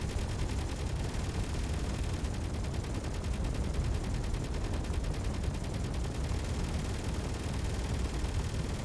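Turret gunfire in the Space Engineers game, a continuous dense hammering of rapid rounds blending into a steady, loud roar for the whole stretch.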